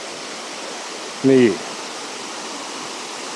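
Erawan Waterfall in Kanchanaburi, Thailand, flows below a footbridge over its gorge, giving a steady, even rushing roar throughout, with a brief spoken syllable partway through.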